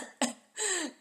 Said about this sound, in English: They all start coughing.